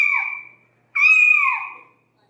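Two short cat meows play from a digital learning pen, a talking educational toy for children: a brief meow, a pause of about a third of a second, then a second, longer and louder call, with no other sound around them.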